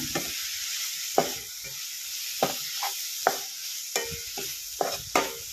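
Sambar powder mixture is stirred in a hot pan, a spoon scraping and tapping in irregular strokes over a soft, steady sizzle, close up with no talking.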